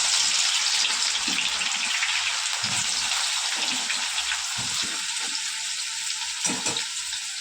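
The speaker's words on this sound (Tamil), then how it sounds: "இப்போ வந்து இதை வந்து மிதமான சூட்டில் வந்து கோல்டு கலர் வர மாதிரி பொரிச்சு எடுக்க போகிறோம்" Sliced onions fry steadily in hot oil for chicken biryani, a continuous close, bright sizzle with crackle and a few soft stirring knocks, no voices.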